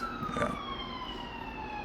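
A wailing siren sound effect dropped into a sports talk show, its tones sweeping steadily downward and sounding loud and continuous for about two seconds, with a brief voice near the start.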